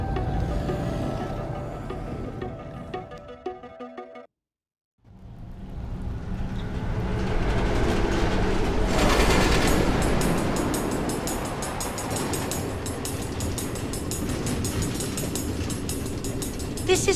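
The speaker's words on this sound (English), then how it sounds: "Automated train tracks running all through the Nether?" A Minecraft Story Mode train runs along automated tracks through the Nether, a loud steady rumble that cuts to silence briefly, then returns with rising rattle and hiss that stays heavy to the end.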